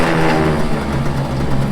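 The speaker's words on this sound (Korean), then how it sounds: "이렇게 해서 다시 시동을 거시면 보통 열이 걸린 상태에 일반 시동이 걸립니다." Mercury 4.9 hp two-stroke outboard motor, restarted after a shutdown, running steadily with a loud, close buzzing drone and no pauses.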